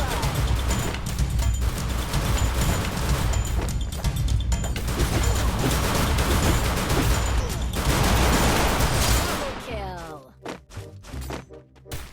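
Gunfire in the Free Fire battle royale game during a ranked 4v4 match: dense rapid bursts of shots and impacts over about ten seconds, then the firing drops away into scattered thuds and chirpy effects.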